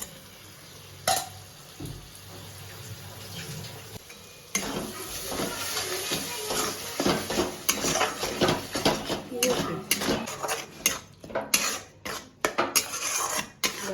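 Spice paste for prawn biryani stirred and fried in a pan: a quiet start, then a long run of brisk scraping and clattering strokes with a frying hiss, close by, with some speech in the background.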